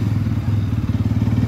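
A Bajaj Pulsar NS200 motorcycle, a 2024 BS7 model, rides off at full power with a steady, loud, close engine drone that pulses rapidly and throbs low throughout, with no voices.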